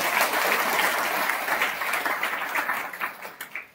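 An audience at a Shravan month religious gathering with Rudra puja breaks into loud, dense applause that holds steady and then thins into scattered claps as it fades.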